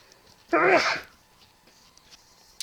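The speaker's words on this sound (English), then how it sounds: "I'm expecting to sneeze." A single sharp sneeze from a man gaming at his microphone, one loud close burst lasting about half a second, followed by quiet room noise and a faint click.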